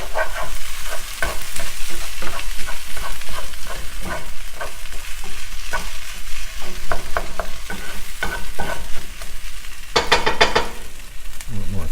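Parmesan cheese and egg are folded into a cauliflower mixture in a bowl, with a run of soft, close, irregular wet stirring and scraping sounds and a brief louder clatter near the end.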